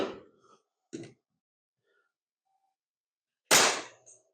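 Nail gun fired into a drawer front: a couple of short, sharp pops spaced apart, then a louder close burst with a brief tail, separated by near silence.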